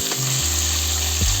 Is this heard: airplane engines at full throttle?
no